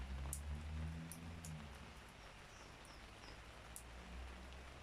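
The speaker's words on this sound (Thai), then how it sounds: "ฝนตกฝนตกจ้า" Steady rain patters softly at a distance, a low continuous hiss with a few faint bird chirps above it and no voices.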